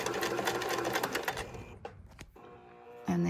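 A Kenmore sewing machine stitching a buttonhole runs fast and close with a rapid mechanical whir for about a second and a half, then stops, followed by a few clicks and a brief hum.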